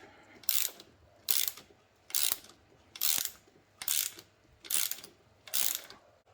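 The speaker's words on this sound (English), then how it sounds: "I've got an 18mm pass-through socket, and I've got a Torx bit to counter hold it. I'm just going to loosen it." A ratchet drives an 18mm pass-through socket to loosen the front strut top nut on a 2011 BMW X3 F25 while a Torx bit counter-holds the shaft. Seven evenly spaced bursts of close, crisp clicking, with no talk.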